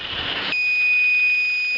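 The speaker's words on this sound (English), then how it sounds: "Now you are getting a buzzer indication through your compass" A buzzer on the digital compass of a solar tracker robot, set off as the robot swings from east-west toward north, sounds as one sustained high electronic tone that starts after a burst of broadband noise and holds steady to the end.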